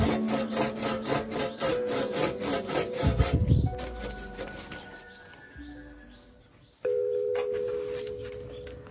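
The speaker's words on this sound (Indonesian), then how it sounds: "Saya biasa pakai gergaji karena ini batangnya agak" A hand saw rasps back and forth through a thick plant stem in quick repeated strokes, then slows and stops, followed by a steady hum.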